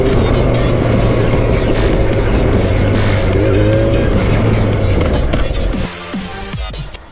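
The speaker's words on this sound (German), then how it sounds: "Ich fahre nur einmal durch die Slalom, okay? Dann, ja, okay, ich gebe Gas." A driving-school car accelerates through a slalom course, its engine loud and close with a sustained droning roar and rising pitch, then easing off near the end, with no speech.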